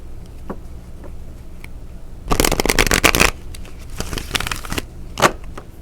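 Tarot cards are shuffled by hand, with sparse soft flicks at first, then a loud riffling burst of rapid card slaps, followed by lighter shuffling and a final snap.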